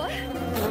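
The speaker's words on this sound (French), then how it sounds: "Oh, Phoebe, il y a tellement des abeilles." A swarm of bees buzzes in a steady, continuous drone, close and fairly loud, with no talking over it.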